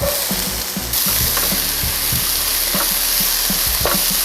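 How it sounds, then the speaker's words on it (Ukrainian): Onions sizzle steadily in hot sunflower oil, with a continuous frying hiss and occasional scraping knocks of a utensil stirring the pan. "наливаємо невелику кількість соняшникової олії і починаємо смажити цибулю"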